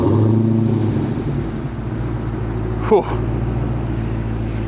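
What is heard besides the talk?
2019 Dodge Challenger Hellcat engine remote starting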